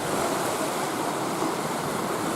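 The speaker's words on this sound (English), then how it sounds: "The waves are really coming up." Waves surging onto the Lake Superior shore at Pictured Rocks, a steady broad wash of surf mixed with wind, constant and fairly loud with no voices.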